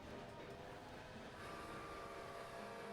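Trains rolling along the tracks in the railway management game Railway Empire 2 produce a steady, faint, continuous rumble with a faint tonal hum, unbroken throughout and with no voices.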